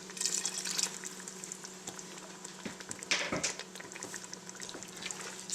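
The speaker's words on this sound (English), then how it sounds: "We're going to put a 1/4 cup of red wine vinegar here." A quarter cup of red wine vinegar is poured into a pot of chili, giving a soft liquid trickle and splashing against a steady background hum, fairly faint and close, with no talking.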